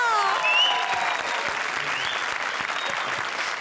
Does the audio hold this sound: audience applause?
yes